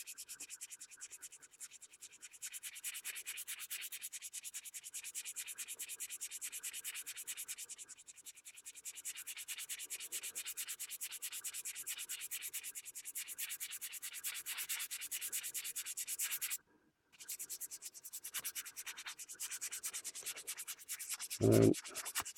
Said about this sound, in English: sanding away at blade B.